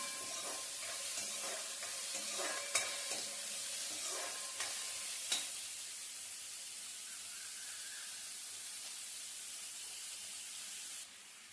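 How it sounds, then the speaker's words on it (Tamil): Two large onions sauté in a pan with a soft, continuous hiss. A few utensil clinks and stirring scrapes come early, then a quieter, even sizzle carries on alone. "ரெண்டு பெரிய வெங்காயம் நல்லா சாட்டே பண்ணிக்கலாம்"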